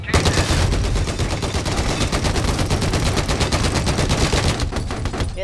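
An M1 Abrams tank's machine gun fires in Battlefield 4, a loud, sustained rapid burst of rhythmic shots lasting several seconds before cutting off, with battle noise behind it.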